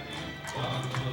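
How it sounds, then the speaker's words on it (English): A gray horse walks in a small-town street parade in Monrovia, California, its hooves clip-clopping in a light, uneven rhythm over crowd murmur and voices. "Look at that beautiful gray horse."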